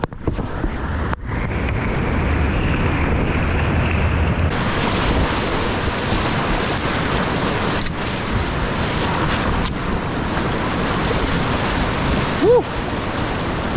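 A Liquidlogic Torque kayak moves on flowing river water with a steady, loud rush of current and wind buffeting the microphone, with no clear voices.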